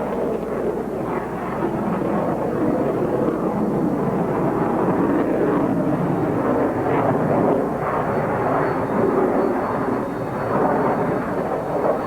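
An F-16 fighter jet roars overhead at the Paris 1989 Air Show, a loud, broad, continuous rumble that holds steady throughout, with no voices.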